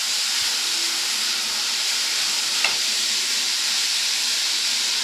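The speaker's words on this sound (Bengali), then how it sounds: "আদা রসুন আর পেঁয়াজ দিয়ে ভালো করে আমি ভেজে নেব" Ginger, garlic and onion fry on a low flame, giving a steady, even, close sizzling hiss with a single faint clink partway through.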